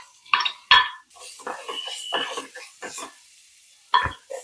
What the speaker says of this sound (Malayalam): ഒരു സ്വല്പം വഴന്ന് കഴിയുന്ന തന്നെ സവാള അരിച്ചത് അങ്ങോട്ട് ഇട്ടു.